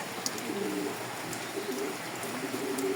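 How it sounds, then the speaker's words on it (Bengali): Pigeons coo softly in a damp loft on a rainy morning, low rolling calls repeating in short bursts over a constant background hiss. "এখানে কিছু কবুতর আছে এখানে"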